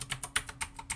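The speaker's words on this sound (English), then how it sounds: "So first I'm just going to take off all of the keys." Keycaps come off a mechanical keyboard with blue switches in a quick series of about eight sharp, close plastic clicks at an uneven rhythm, with quiet gaps between them and no talking.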